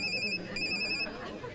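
A telephone rings with two bright electronic bursts separated by a short pause, in a Bollywood thriller film scene, set against faint room noise with voices murmuring.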